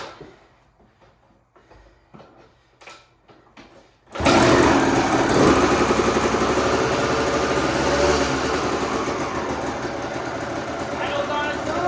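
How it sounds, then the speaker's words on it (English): A 2001 Suzuki RM250 two-stroke motorcycle engine under restoration is kicked and fires up after a few sputtering attempts, then runs loud and steady with a buzzing, raspy idle close by. "So far, the engine runs at least."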